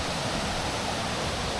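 Steady, dense roar of a rainforest waterfall at close range, a broad continuous rush of falling water that fills the whole clip without any break or voices.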